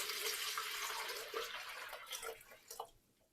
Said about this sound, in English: we're going to pour 1 liter of water into each container to see how 1 liter looks different in each container